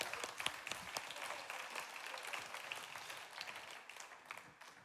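A church congregation at a Sunday morning service applauds the Lord, a steady, moderately distant crowd of many hands clapping together and slowly fading out.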